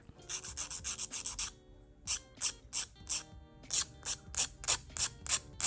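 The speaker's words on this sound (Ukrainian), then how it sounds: "Але я знайшов для себе, як мені здається, ідеальний інструмент для фототравлення. Це металева шліфувальна паличка від Amomik." A metal sanding stick from Amomik files photo-etched parts for a 1:35 scale model of a Stug E-100 tank. It makes close, dry raspy strokes in quick bursts of rhythmic back-and-forth rubbing, with short pauses between the bursts.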